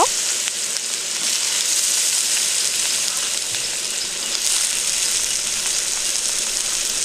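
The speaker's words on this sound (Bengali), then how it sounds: "এবার কড়াইয়ের মধ্যে তেল দিয়ে দিলাম কেটে রাখা আলুগুলো ভালো করে ভেজে নেব" Steady, dense sizzling of cut potatoes frying in hot oil in a wok, a continuous crackling hiss that stays even throughout with no talking.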